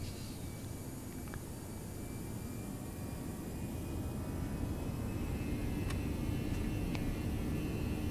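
Simulated ToLiss A319 airliner engines spooling up for takeoff in X-Plane 11, a steady broad roar that builds slightly in loudness over several seconds, with faint higher tones and no talk.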